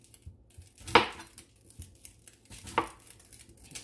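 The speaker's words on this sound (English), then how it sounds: "Figured I would show you the whole chopping part." Potatoes being chopped on a board for roasted potatoes, two distinct sharp knife strikes about two seconds apart, close and fairly quiet over faint kitchen background noise.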